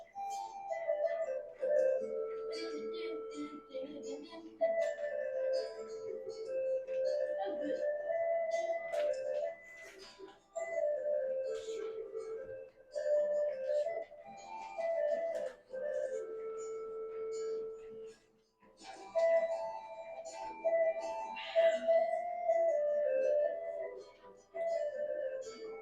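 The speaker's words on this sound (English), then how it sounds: "How could a portative organ be useful?" Medieval portative organ playing a continuous melodic line of reedy, flute-like pipe notes, moderately loud and close, flowing for about half a minute with one brief pause near the end.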